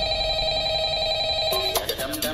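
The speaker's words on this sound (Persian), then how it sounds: "اولا تلفن زنگ زد، یادش بخیر، درست مثل بازی فایو نایت ات فریدی" A telephone rings in a Five Nights at Freddy's mod of Friday Night Funkin', electronic tones over steady game music, a few short rings near the end.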